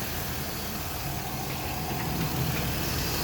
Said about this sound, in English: the engine is running fine right there